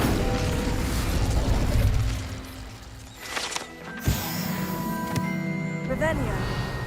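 An Incendio fire spell is cast in Hogwarts Legacy, a sharp burst roughly two-thirds of the way through, set among game music and clattering mechanical effects.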